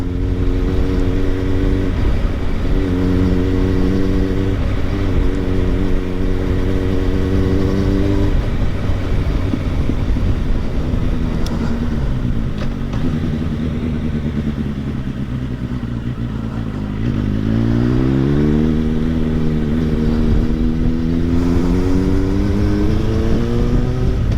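A motorcycle rides through the village of Kingston, its engine droning steadily close by and rising and falling in pitch as the rider eases off and accelerates again, with no talk.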